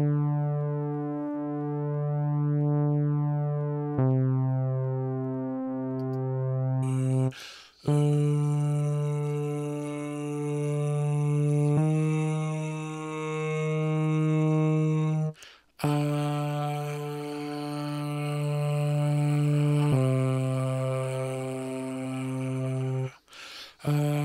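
Logic Pro X Retro Synth plays a simple MIDI melody, smooth sustained tones in a steady sequence of held notes with small pitch steps, alone and clear with brief breaks between phrases and no speech.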